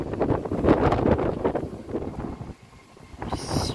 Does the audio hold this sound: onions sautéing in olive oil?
no